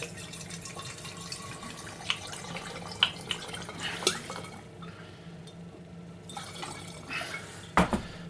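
Vodka trickles and splashes as it is poured from a bottle into a spare glass bottle, with a few faint clinks of glass along the way. The pour is quiet and close, and nobody speaks.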